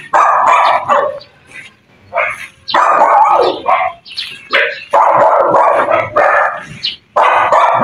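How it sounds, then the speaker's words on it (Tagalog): Several dogs bark repeatedly and loudly at close range in bursts, with yips mixed in and short pauses between volleys; no one speaks. "Aso."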